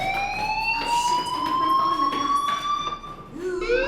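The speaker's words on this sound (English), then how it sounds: "Hey, do you hear that fire alarm?" A school fire alarm in the video game Life Is Strange sounds as a sustained, slowly rising electronic tone, steady and fairly loud, with faint background noises.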